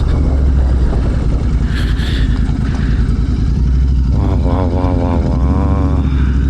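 Loud engine roar of motorbikes passing close by on a hill ride at Penukonda, revving and droning continuously, with a brief rising whine midway.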